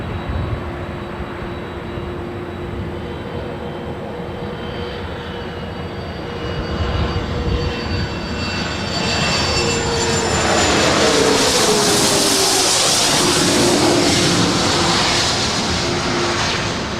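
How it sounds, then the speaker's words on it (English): An Embraer Phenom 300 business jet at LAX rumbles at a distance, then swells into a loud rising engine roar and whine as it passes closer, sustained over the latter half. "That is an Embraer Phenom 300."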